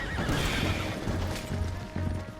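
A horse in Red Dead Redemption 2 whinnies loudly over rapid, uneven hoofbeats, as if the animal stumbles, amid busy game ambience.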